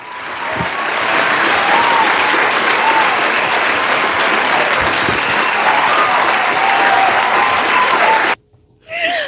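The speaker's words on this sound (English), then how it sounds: "Let's clap it up." Loud, dense clapping from a crowd holds steady for about eight seconds, then cuts off abruptly into near silence before a brief burst of noise at the very end.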